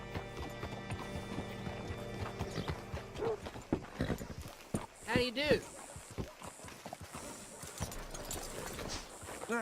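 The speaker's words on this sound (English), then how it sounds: "Hitch your horse up here." Horse hooves clip-clop at a walking pace alongside a brief whinny in Red Dead Redemption 2, with someone speaking over the sound and a musical backdrop.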